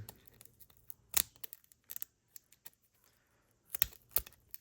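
Parts are ripped and torn out of an acetone-soaked iPhone 5c whose plastic is disintegrating, producing sparse crackling snaps and crunches in a few sharp bursts, close up in an otherwise quiet room.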